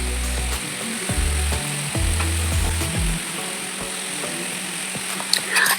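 Potatoes frying with cumin seeds in a kadai. Continuous close sizzle with a low droning hum and rhythmic scraping knocks through the first half, then an even frying hiss and a few sharp clinks at the end.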